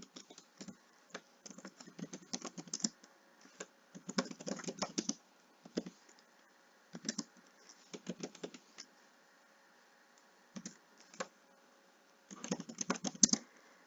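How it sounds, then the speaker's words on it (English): Typing on a computer keyboard comes in irregular bursts of quick clicking keystrokes, close and fairly quiet, with pauses between runs and a faint steady hum underneath. "So you can just hit enter after typing everything out"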